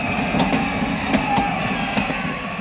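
A passenger train starting to pull away, with a steady, fairly loud broadband rumble and faint rhythmic clacks running through the whole stretch.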